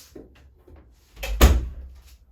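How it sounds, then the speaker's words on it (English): A door is pushed shut with one solid thud at close range, preceded by a few soft shuffling sounds in a quiet room. "I'm going to shut the door."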